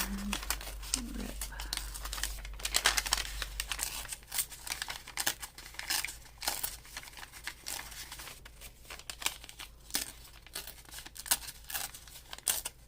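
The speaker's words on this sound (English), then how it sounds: "So let's take some off down here and rip." Paper pages torn out of an altered book junk journal, with repeated close crinkling and ripping bursts over a steady low hum, someone talking intermittently.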